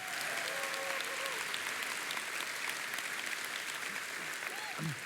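A church congregation applauds the newly baptized, a steady, full round of clapping from many hands that carries on without pause, with faint voices mixed into the crowd.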